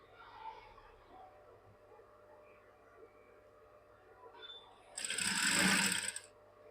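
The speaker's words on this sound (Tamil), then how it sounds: "பொறுமையாக தையுங்க. 1 by 1 தையுங்க." A sewing machine stitches blouse fabric layered with lining, a close, loud burst of rapid mechanical whirring that starts after several seconds of quiet room noise and runs for about a second and a half.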